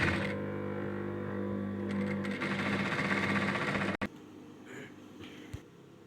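Sewing machine stitching a gota-work sharara dress, a steady mechanical whir running for about four seconds before stopping abruptly, followed by quieter handling noise and a single soft knock.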